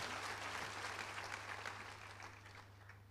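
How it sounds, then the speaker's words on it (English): An audience at a church testimony gathering claps along in a soft, continuous patter that fades slightly toward the end, with a low electrical hum running underneath. "If you want, you can clap your hands."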